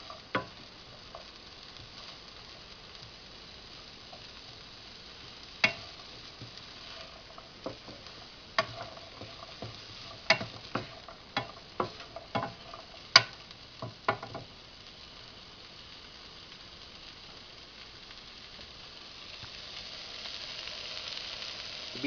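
Beans sizzling steadily in a frying pan alongside fried rice, with scattered sharp scraping and clinking as they are stirred, the stirring clustered in the middle and the sizzle swelling louder toward the end.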